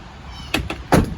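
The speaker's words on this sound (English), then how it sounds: "my driver's side door on my truck and on my trailers, they open and close properly" A truck's driver's side door worked during a pretrip inspection, heard as a couple of close metallic clunks followed by one heavier slam, all within a second, under a faint steady background hum with no talking.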